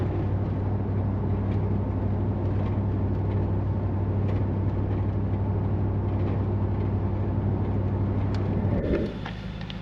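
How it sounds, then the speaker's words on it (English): A car driving along a country road produces a steady, loud exhaust drone with a constant low rumble that holds evenly throughout, then drops away abruptly just before the end. "I'm gonna let the camera run a little bit just so you can hear the exhaust note."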